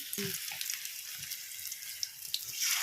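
Durba grass pakoras deep-frying in hot mustard oil in a kadai, giving a steady, close bubbling sizzle that runs throughout with small crackles.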